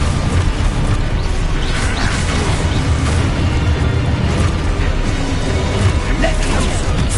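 Expulso spell explosions in the Hogwarts Legacy video game make loud, dense, continuous booming and crashing blasts that fill the whole stretch without pause.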